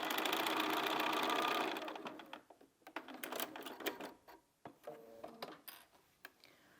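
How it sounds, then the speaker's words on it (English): A sewing machine stitching a small Christmas stocking fabric runs steadily and fast at first, then breaks into shorter, stop-start bursts of stitching with mechanical clicks, close and clear, with no talking. "Because I'm sewing in a curve, I'm actually going to put it back on and sew again."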